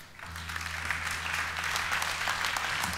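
Warm audience applause greeting a live electronic music act on stage, a broad steady wash of many hands clapping over a low sustained hum, building slightly and continuing at a moderate distance.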